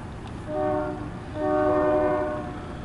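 A CSX Q300 mixed freight train rolls past close by, sounding two loud horn blasts over the steady rumble of its passing cars.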